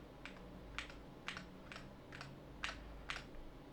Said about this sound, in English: if we go ahead and press the Windows key